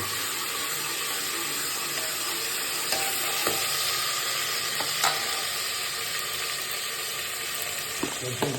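Ginger garlic paste dropped into hot oil in a pan for a Nellore-style okra mutton curry, giving a steady loud sizzle with occasional stirring scrapes and clinks.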